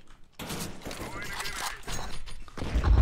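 A grenade blast in a CS:GO match, a loud burst of explosive noise that rolls on for a couple of seconds with a heavy low thump near the end, over game sounds.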